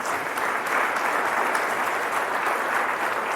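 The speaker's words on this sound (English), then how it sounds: "Let's give them a round of applause" An audience applauds at a Retrieving Freedom service dog graduation in Iowa, a dense, even wash of many hands clapping at steady volume, filling the room without pause.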